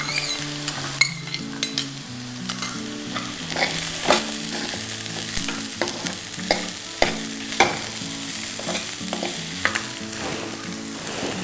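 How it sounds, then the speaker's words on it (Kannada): Chopped beans stir-fried in a hot pan for vegetable upma, a steady sizzle with repeated scraping stirs and light clinks of a utensil against the pan, with no voices. "ಬೀನ್ಸನ್ನು ಹಾಕ್ಕೊಳ್ತಾ ಇದ್ದೀನಿ. ಬೀನ್ಸನ್ನು ಕೂಡ ಸಣ್ಣದಾಗಿ ಹೆಚ್ಚಿಟ್ಕೊಂಡಿದೆ."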